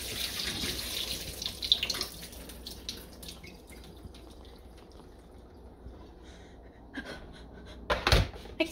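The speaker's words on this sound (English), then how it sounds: "we'll just dump out the old water." Water splashes and trickles, like a container being emptied into a sink, with louder pouring bursts near the end amid faint clatter.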